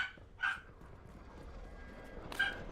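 Two short yaps from a small miniature dachshund indoors, a sharp bark near the start and another near the end, separated by quiet room noise.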